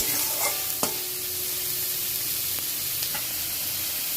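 Onions frying in a pan for a spicy-sour green tomato relish, salted to soften, with steady sizzle and a few sharp stirring scrapes of the spoon, close and alone without talk.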